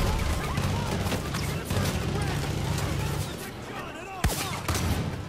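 Sustained gunfire from Far Cry 5 crackles in rapid volleys through the whole stretch, with one sharp, heavier shot standing out near the end and a voice talking over it.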